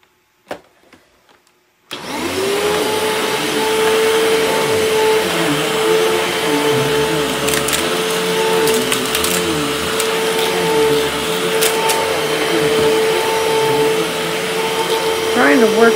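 A household vacuum cleaner starts up after a couple of quiet seconds with a few knocks, then runs loudly and steadily with a constant motor whine while it works over carpet or a rug.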